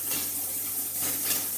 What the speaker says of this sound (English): Now it's the frying came back.